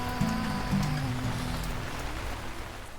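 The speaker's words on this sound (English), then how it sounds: "it is raining outside, and it is coming down" Rain comes down outside on a summer day, a steady soft hiss of drops on surfaces throughout, with a low hum and a brief tonal murmur early on beneath it.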